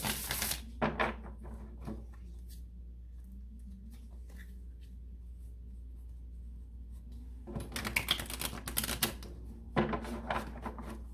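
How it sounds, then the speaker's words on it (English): Tarot cards shuffle in two quick bursts of crisp riffling and tapping, separated by a stretch of quiet room hum. "I'm gonna shuffle and cut the sign of Taurus"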